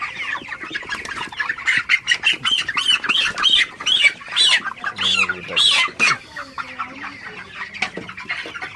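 Broiler chickens at about 33 days old, around 2.2 to 2.6 kg, cluck and squawk close by. The calls come as a dense, steady run of loud, repeated squawks, with no talk in between.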